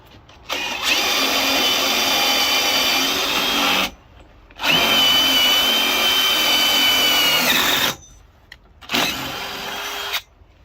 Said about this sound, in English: just a small self-tapper and just make a pilot hole for him.